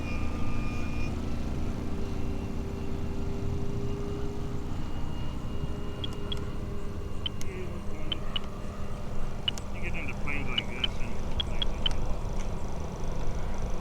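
Sebart Marchetti all-balsa RC model plane taking off on its maiden flight, a steady engine drone running throughout with broadband wind and rumble, loud and close for the whole stretch.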